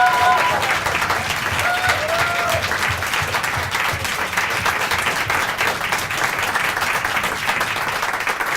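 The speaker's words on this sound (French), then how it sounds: "c'est rare qu'un Lyonnais soit applaudi comme ça à Paris" Sustained audience applause fills a studio on a French TV show in Paris, dense and steady clapping throughout, with a few faint voices and brief whistles mixed in.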